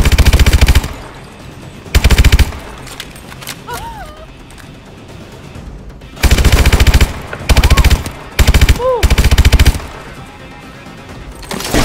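Machine gun suppressing fire in the video game Call of Duty: Advanced Warfare, loud close bursts of rapid automatic fire in several separate volleys, with shouted voices heard between them.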